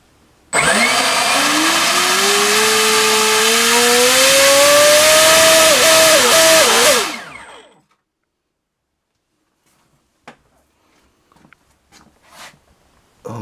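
An NTM Rotordrive 600 series 1220kv brushless electric motor runs on a test bench, drawing high current. It gives a loud rising whine that climbs in pitch for about six seconds, wavers, then cuts off abruptly, followed by faint handling clicks.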